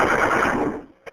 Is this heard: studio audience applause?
no